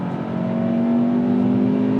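The engine of a 2024 Hyundai Elantra holds a steady hum that climbs slightly in pitch while the automatic gearbox shifts. The drone is close and even throughout the short stretch.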